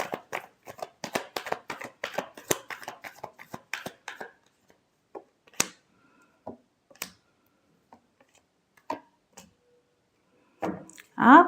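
Tarot cards are shuffled in a quick run of crisp riffling clicks and taps, which then thin out into a few scattered card snaps. A voice speaks briefly near the end.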